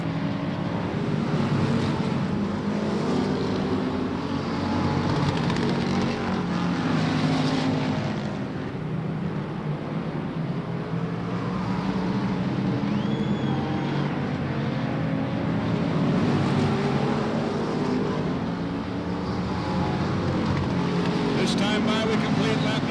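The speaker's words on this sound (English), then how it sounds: "Bud Thompson and Craig Paulson showing the field how it's done right now" Race cars lapping at Silver State Raceway during a 1994 open competition, heard as a continuous roar of engines circling the track, with a commentator talking over it throughout.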